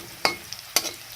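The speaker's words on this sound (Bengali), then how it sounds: "ফোড়নে প্রথম দিয়ে দিছি মোহরি, কালো জিরা।" Mustard seeds and black cumin hit hot oil, giving two sharp crackling bursts with a faint sizzle between them.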